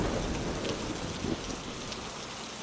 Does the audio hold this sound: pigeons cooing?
no